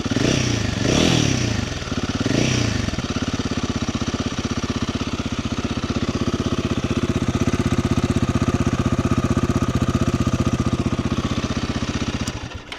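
A Royal Enfield Himalayan 450 motorcycle engine is revved close by, with a few quick rising blips of throttle before it settles into a steady, lumpy idle thrum that continues to the end.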